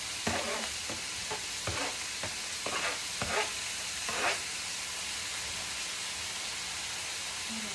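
Apples sizzling in a hot pan with a soft steady fry hiss, punctuated by several quick scraping stir strokes early on before settling into a quieter sizzle.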